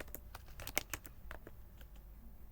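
Keys tapped on a computer keyboard while a terminal command is entered, a quick run of light, close clicks with uneven rhythm over a faint background hiss.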